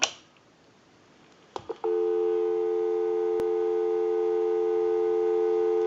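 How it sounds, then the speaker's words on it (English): A steady, continuous dial tone sounds from an Automatic Electric rotary wall telephone after a couple of brief clicks from the handset, holding loud and unbroken for several seconds. "We'll go ahead and give you some dial tone."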